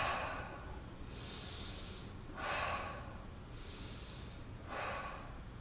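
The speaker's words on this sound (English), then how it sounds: "and then breathe" Slow, deep breathing during a back-bending stretch on the floor, chest pressed to the ground: about four close, soft breaths in a steady rhythm, each long airy inhale followed by a brighter exhale.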